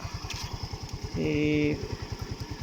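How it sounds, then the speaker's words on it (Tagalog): A Rusi Rapid 150cc motorcycle engine idles nearby in a steady, rapid low putter, with a brief tonal beep partway through. "Okay, kitang kita gumagana yung ating Rusi Rapid oh."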